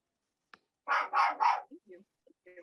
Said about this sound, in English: I'm trying to find out who else's dog is barking.